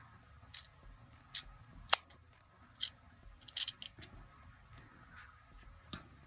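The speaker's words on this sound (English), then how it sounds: "So it is possible to continue cutting with your scissors." Scissors snip through fur fabric in a quiet room, a series of short, crisp cuts at an uneven pace, some sharper and louder than others, with no voice over them.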